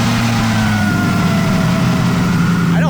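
A loud modified car engine revs close by with a steady droning tone and harmonic whine that holds, then shifts rapidly in pitch near the end, with no voices.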